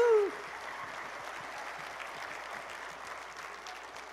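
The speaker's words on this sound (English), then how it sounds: "A round of applause for these guys." Audience applause at a stage hypnosis show, a steady wash of many hands clapping that continues throughout, opening under a brief voice and then carrying on alone at moderate level.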